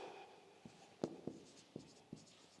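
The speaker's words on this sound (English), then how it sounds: "Let me write this." A teacher writes on a board in a class setting with about six distinct taps and scratches at uneven intervals, close and clear over a quiet room with no talking.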